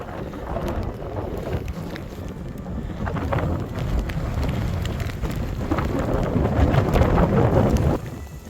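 Strong gusting wind outdoors in driving sideways rain at a rocky Yellowstone-area rockhounding site near Columbus, a steady loud roar of wind buffeting the microphone that builds toward the end, with no talk.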